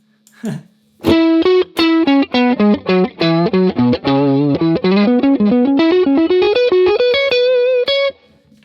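A distorted electric guitar plays a quick run of picked notes through a Fractal FM3 auto-filter while its peak frequency is moved, so the nasal, wah-like coloring shifts as the phrase climbs, loud and close without speech.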